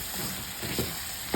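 Jackfruit frying with plenty of sliced onions in oil in a pan: a soft, steady sizzle with a few light stirring clicks.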